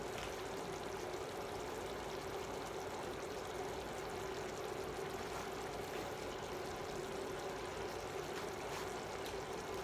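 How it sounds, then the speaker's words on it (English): Water runs steadily from a kitchen tap while dishes are wetted, a continuous even splashing stream that holds at a constant level throughout without pauses. "Wetting it with some water."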